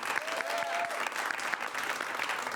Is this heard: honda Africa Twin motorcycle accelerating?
no